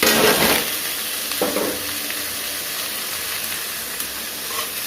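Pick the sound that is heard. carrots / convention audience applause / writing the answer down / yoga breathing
carrots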